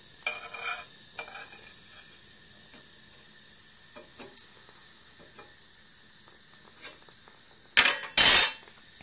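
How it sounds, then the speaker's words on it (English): An egg frying in olive oil in a pan gives a faint, steady sizzle with light crackles throughout, ending in two loud bursts of spattering near the end. "This will now simmer away within the olive oil. As you can hear, it does get pretty noisy."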